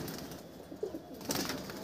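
A domestic pigeon kept at a house gives a couple of soft, low coos nearby. The calls are faint over a quiet, hissy background.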